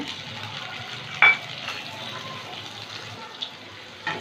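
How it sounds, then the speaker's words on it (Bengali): Onion cubes, capsicum and chopped green chillies fry in hot oil over a high flame for a chili chicken, giving a steady broad sizzle with a sharp stirring clatter near the start and a few lighter scrapes later. "2 মিনিট একটু ভেজে নেব"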